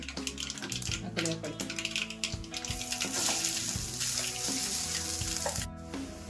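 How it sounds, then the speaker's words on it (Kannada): Ground green peas tip into a hot tempering in a pan while making Mysore bonda, setting off a loud, continuous, close sizzle with a voice talking over it throughout. "ಅವಾಗಲೇ ರುಬ್ಬಿ ಇಟ್ಕೊಂಡಿದ್ವಲ್ಲ ಬಟಾಣಿ, ಅದನ್ನು ಹಾಕೊತಾ ಇದ್ದೀನಿ."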